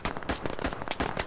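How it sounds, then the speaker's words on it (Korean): Crackling, popping blast noise from a grenade in the Operation: Harsh Doorstop game, a dense burst of sharp bangs and debris crackle filling the whole short moment. "수류탄! 투척!"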